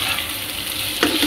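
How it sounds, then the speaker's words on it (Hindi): Ginger garlic paste frying in a pan, giving a steady close hiss of sizzling with a brief stirring scrape near the end and no voices. "इसमें डालेंगे एक चम्मच अदरक लहसुन का पेस्ट। डाल के इसको अच्छा सा भून लेना है।"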